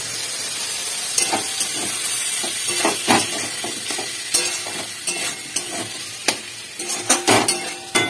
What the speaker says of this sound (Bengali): টমেটোটা একটু ফ্রাই হোক